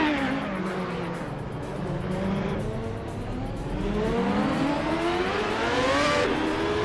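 Penske PC23 open-wheel race car in a racing video game, its engine note droning steadily and rising in pitch as it accelerates, with smooth gear changes and a constant close-up roar, no voices.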